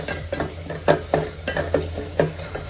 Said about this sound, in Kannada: ಇಲ್ಲಿ ಟೊಮ್ಯಾಟೊ ಚೆನ್ನಾಗಿ ಫ್ರೈ ಆಗ್ತಿದೆ